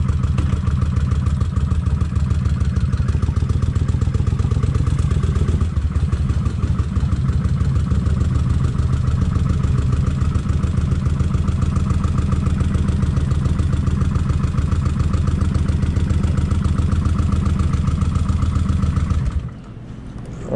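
Kawasaki Vulcan 1600 motorcycle with a possible fuel problem, idling loud and close with a steady low rumble that runs unbroken for about nineteen seconds before cutting off abruptly.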